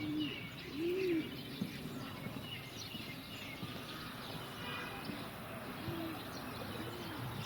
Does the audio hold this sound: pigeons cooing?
yes